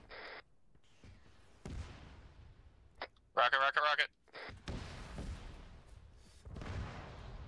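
An incoming rocket explodes in a military shooter game, a sharp blast among scattered gunshots and distant booms, with players talking over the radio throughout.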